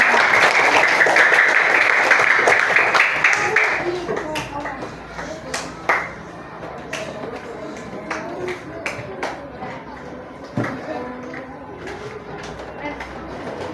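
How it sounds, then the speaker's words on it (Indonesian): An elementary school maths class of fifth graders bursts into applause, dense clapping for about four seconds that then fades into scattered claps and taps under speech. "Tepuk tangan."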